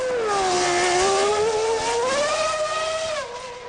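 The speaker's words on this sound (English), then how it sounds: "he boots the throttle, coating the pit lane with rubber as he leaves" Michael Schumacher's Formula 1 car, Brazilian Grand Prix 1998, accelerating hard out of the pit lane, a loud, close, high engine scream rising steadily in pitch through the gears before dropping off near the end.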